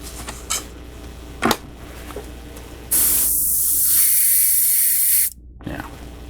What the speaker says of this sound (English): I have some white diluted the same way, and I'm going to put that in the airbrush